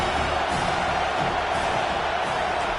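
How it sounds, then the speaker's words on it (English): A stadium crowd in College Football 25, Kentucky Wildcats versus Tennessee Volunteers, roars as a steady wash of cheering that stays loud and even from start to finish. "This crowd trying to make life miserable for this offense."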